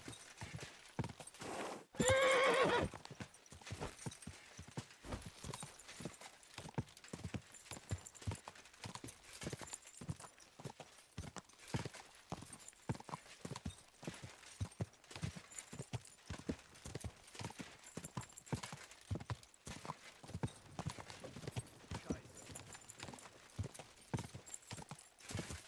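In Kingdom Come: Deliverance 2, a horse gallops with rapid rhythmic hoofbeats throughout, opened by a loud neigh early on, all fairly faint.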